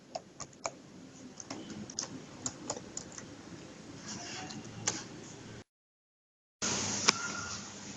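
A replacement laptop keyboard being pressed into place from its corners gives a series of sharp, small plastic clicks, scattered and close, over a faint hiss, with a brief gap and then a louder click.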